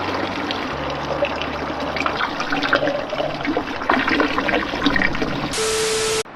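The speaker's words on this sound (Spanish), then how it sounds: "yo por mi lado voy a rellenar mi botilito" Water runs from a free public drinking fountain in Bern, Switzerland, as a bottle is refilled: a steady close rush and splash over outdoor city ambience, ending with a brief louder hiss.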